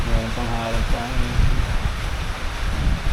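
Strong wind roars and buffets the microphone on an exposed raised spot outdoors during steady rain, gusting loudly throughout while someone speaks briefly near the start.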